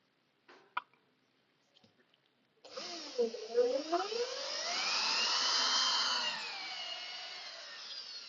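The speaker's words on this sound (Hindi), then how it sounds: "इसके लिए हमारा जो डेप्थ होता है वो 5 mm का ड्रिल बिट यूज करना होता है" A drill boring a 5 mm hole, about 12 mm deep, for a screw-in dowel during VB fitting installation. After a few faint knocks it starts abruptly, whining loud and steady with pitch sweeps as it bites, then keeps running.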